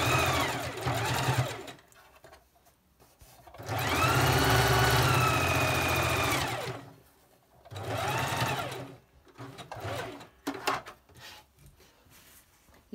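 A sewing machine runs a basting stitch along a suit neckline, whirring in several bursts of varying length with quiet pauses between, the longest run in the middle, close and clear.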